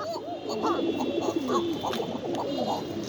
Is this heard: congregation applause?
no